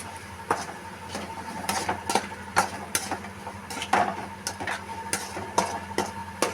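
Utensil taps and stirring against a pot of cooked onion and tomato as lentils go in for paruppu kuzhambu, a series of soft metallic knocks close by over a low steady hum, no voices.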